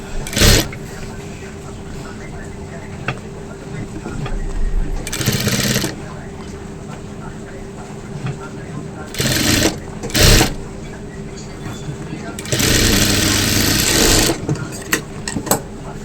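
Sewing machine topstitching a one-piece dress at home, with short bursts of rapid mechanical stitching separated by pauses, near and fairly loud, while someone talks between runs.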